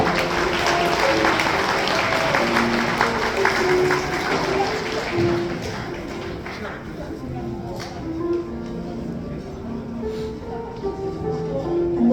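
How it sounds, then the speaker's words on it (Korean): Wedding guests applaud a ring exchange at a ceremony in a Seoul banquet hall, a dense crowd of clapping that is loud at first and then thins and fades, with music and voices faintly underneath. "큰 박수 부탁드립니다."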